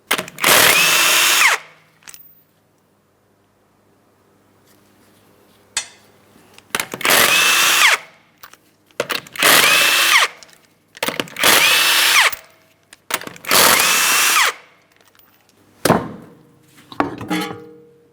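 An impact-style power tool spins off the 19mm lug nuts of a 2008-2016 Chrysler Town & Country wheel in six loud, close bursts of about one to two seconds each, separated by quiet pauses.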